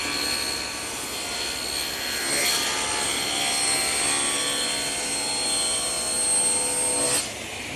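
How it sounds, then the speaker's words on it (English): Table saw ripping a glued-up wood blank to 18 inches, a steady loud whine with a broad hiss and high tonal edge that holds for several seconds, swells midway and cuts off near the end. "now I'm going to take it over to my table saw and rip it to 18 inches"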